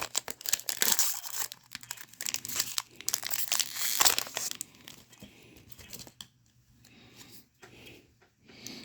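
A foil trading card booster pack for Magic: The Gathering's Hobbit set is torn open up close, a loud crinkling and tearing burst that then fades into quieter rustling and the shuffle of handled cards.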